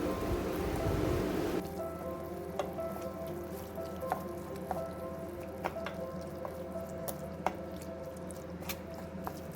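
Kidney beans being stirred into a pot of rajma curry give soft, wet squelching under a steady low bubbling, with scattered light clicks from the spoon.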